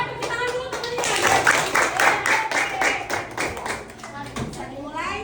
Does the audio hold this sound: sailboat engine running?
no